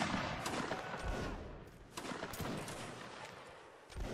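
Musket volleys crackle in Mount & Blade: Napoleonic Wars, a dense, continuous ragged fusillade of many overlapping shots with a few sharper reports standing out, moderately distant and fairly steady throughout.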